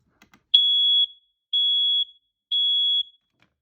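Three loud, piercing electronic beeps from a smoke alarm, each about half a second long and evenly spaced, with silence between them.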